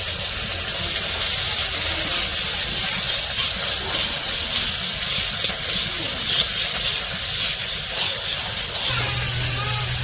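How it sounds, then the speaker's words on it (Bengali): Prawns frying with turmeric, chili powder and salt in a pan in a village kitchen, giving a loud, steady hiss and sizzle throughout, with a low hum entering near the end. "এই যে চিংড়ি মাছগুলো ভাজার জন্য দিয়ে দিচ্ছে"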